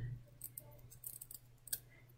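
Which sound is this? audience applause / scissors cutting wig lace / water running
scissors cutting wig lace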